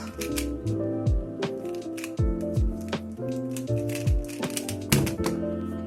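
A Pyraminx puzzle being turned quickly during a speed solve, with rapid plastic clicks and clacks in irregular bursts, close and fairly quiet with no talking.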